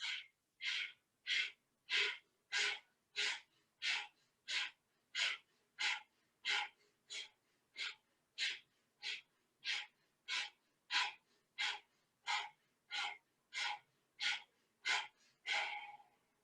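Rapid yoga breathing through the nose, about 25 forceful, evenly paced breaths in a steady rhythm, close and loud, with no talking.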